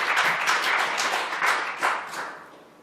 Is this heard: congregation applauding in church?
yes